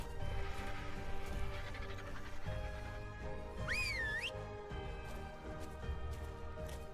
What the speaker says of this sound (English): And then we will whistle it to attack.